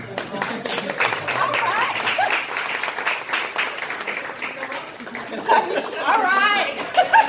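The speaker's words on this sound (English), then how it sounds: "I want us to give a round of applause" An audience applauds at a Detroit community discussion on progressive politics, steady clapping mixed with crowd chatter and voices throughout.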